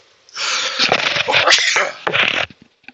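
A single loud, drawn-out sneeze close to the microphone, with a breathy buildup and a sharp burst, then quiet.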